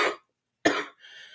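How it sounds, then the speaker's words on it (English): Two sharp coughs, one at the very start and another after a short pause, each followed by a brief breathy trail. "Oh, I've got a cough."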